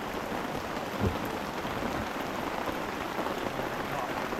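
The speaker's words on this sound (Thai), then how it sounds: "ป่าฝนก็ตกยุบยุบอยู่เลย" Steady rain falls through a forest, a dense, continuous hiss of drops with no pauses, close and fairly loud, with no voices.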